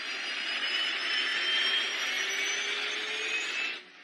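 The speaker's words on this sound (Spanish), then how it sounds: "Los motores de propulsión contienen turbinas que hacen distintos ruidos dependiendo de la velocidad a la que giran" Boeing 737 jet engine turbine whining at steady power, a broad roaring hiss with high tonal whines that slowly shift pitch, loud and close, cutting off abruptly near the end.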